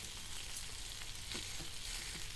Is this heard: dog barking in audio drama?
no